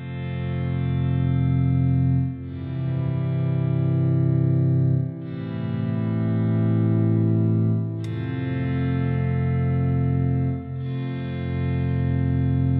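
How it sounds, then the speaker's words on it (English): Electric guitar phrases drenched in long reverb with a short delay, sustained chords blooming and overlapping in repeated swells, loud and alone with no voices. "But you add some nice long reverb and a little bit of delay,"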